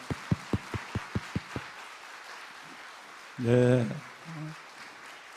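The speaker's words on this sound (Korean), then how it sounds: "박수." Congregation clapping at a late-night Friday church prayer service: a short run of about seven sharp, evenly spaced claps, then a quiet pause before someone speaks briefly.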